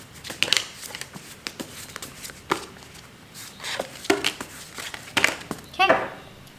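Tarot cards being shuffled by hand in a series of soft, crisp riffles and taps, moderately close, with a voice speaking between the bursts.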